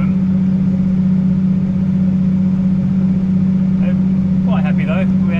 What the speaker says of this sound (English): you can probably tell from the engine noise, it's quite a steady old slog